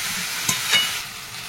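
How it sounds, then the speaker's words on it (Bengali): Cumin paste and spices frying in oil for a kochu mukhi dish, a steady broadband sizzle with two brief stir scrapes, close and alone. "এইভাবে তেলে ভেজে নেব।"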